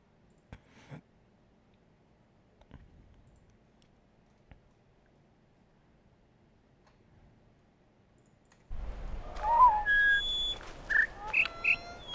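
Sparse clicks and ticks in near silence give way to a busy patch of short, pitched whistle tones in a puzzle game setting from The Witness, chirping in quick separate bursts over a noisy ambience.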